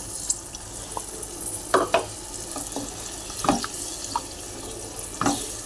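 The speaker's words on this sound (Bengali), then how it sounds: "আর আমি এই জলটাকে আমি দিয়ে দিচ্ছি এর মধ্যে" Water poured into a spice mix frying in a pan for a cauliflower roast, giving a hissing sizzle with a few sharp bursts and stirring scrapes, close up and without speech.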